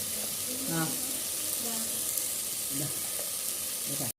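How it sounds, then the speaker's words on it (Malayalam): Onions sauté in an oily pan for chicken curry, giving a steady close sizzle throughout while a person talks over the frying. "ഉള്ളിയൊക്കെ എല്ലാം വാട്ടി സെറ്റാക്കി കൊണ്ടിരിക്കുകയാണ്"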